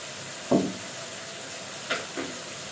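Potatoes fry in a pan with turmeric, coriander-cumin and red chili powder. Three short, sharp sizzling bursts rise over a quiet background hiss.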